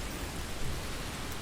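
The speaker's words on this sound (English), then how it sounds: "So I really like these rain effects" Steady, dense rain hiss from the Modern Warfare 2 video game fills the whole moment evenly, with no talking over it.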